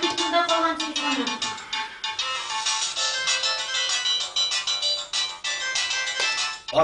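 A mobile phone rings in a Tatar drama series scene, playing a repeating melodic ringtone that sounds loud and continuous throughout.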